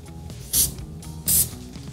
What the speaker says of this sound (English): Give them one last little spritz